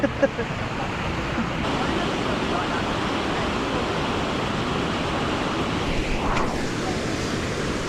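A waterfall roars in a steady broadband rush, close and constant, with some wind buffeting the microphone and a brief voice near the start.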